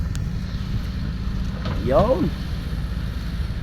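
A Hitachi ZX200-3 excavator engine runs at half RPM after main pump adjustment, a steady low rumble throughout with a brief spoken word over it.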